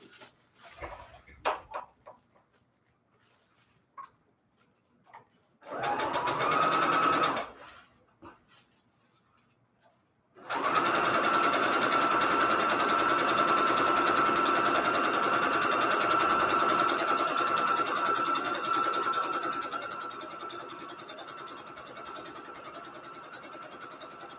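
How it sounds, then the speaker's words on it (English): A sewing machine stitching quilt patchwork runs in a short burst, then after some handling noises stitches continuously for a long stretch, whirring steadily up close before easing slightly. "I had to fetch my sewing machine."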